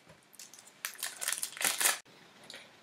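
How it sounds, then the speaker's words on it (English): Toffee wrappers being unwrapped at close range, bursts of sharp plastic crinkling and crackling that grow busier and louder, stop abruptly, then resume softly. "And now we're going to unwrap the toffees."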